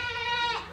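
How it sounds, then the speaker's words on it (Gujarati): A large goat bleats in one sustained, wavering call at close range among a herd of goats, with no talking over it. "મોટી બકરી બૂમો પાડતી હતી હમણાં"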